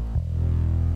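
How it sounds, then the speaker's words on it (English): Distorted synth bass layered over the top of a bass line, a gritty sustained low tone with a throbbing buzz, loud and alone for about a second. "Oh, that's more of just a like distorted bass over the top."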